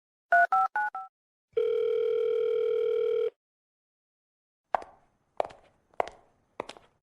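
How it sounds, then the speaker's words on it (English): A phone call rings out unanswered: a few quick electronic beeps, then a long steady tone, followed by silence and five sharp, evenly spaced footsteps, all clear and isolated with no talking. "Why isn't Leo answering his phone?"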